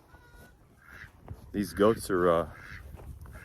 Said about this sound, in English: I hear it sounds like a little motorboat going with the duck